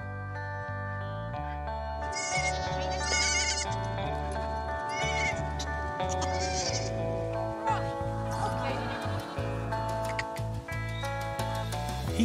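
Pygmy goats bleat repeatedly at a farm barnyard among turkeys and llamas, several clear calls layered over a constant background of animal noise, with no talk.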